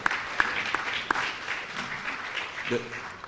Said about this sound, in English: The minister rightly pointed out that this deserves a special clap